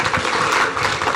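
A short burst of audience applause at a televised weekend gathering, dense and fairly loud throughout.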